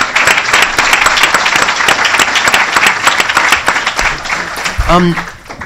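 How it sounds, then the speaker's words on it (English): Applause for a speaker at an ocean filmmakers' event, loud continuous clapping from the room that tapers near the end, with a brief voice cutting in just before it fades. "Let's give William a round of applause"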